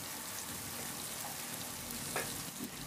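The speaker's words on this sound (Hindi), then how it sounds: "2 बड़े चम्मच सूखी मेथी डालकर 10 मिनट के लिए भून लूँगी" Chicken with dried fenugreek leaves fries steadily in a pan, a continuous even sizzle with soft crackle throughout and a slight brief stir near the end, no talking.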